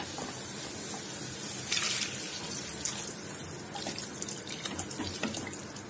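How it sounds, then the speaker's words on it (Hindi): Water poured into a cooking pan of spiced potatoes over a high gas flame, a steady splashing, hissing pour that starts abruptly and runs close and fairly loud, with no talking. "गैस तेज करके इसमें पानी डालेंगे।"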